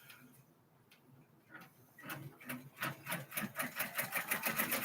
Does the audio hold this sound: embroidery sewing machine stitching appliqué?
yes